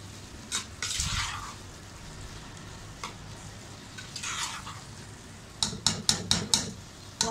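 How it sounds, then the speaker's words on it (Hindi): A spoon stirs arvi (taro root) masala curry in a pan, giving a few soft scraping passes followed by a quick run of sharp clinks against the pot, close and moderately loud over a faint background hiss. "चम्मच हिला के"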